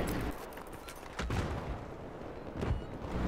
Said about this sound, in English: They're trying to throw grenades at us.